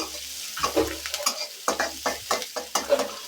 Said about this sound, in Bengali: এই পেঁয়াজ কুচি ভাজা হয়ে গেছে